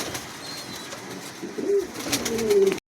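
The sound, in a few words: pigeons cooing in a pigeon showroom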